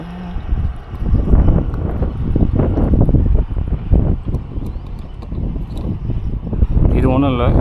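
Strong wind buffets the microphone outdoors beside an i20 N Line car, a loud, continuous rumbling roar with gusty swells, while someone talks over it throughout.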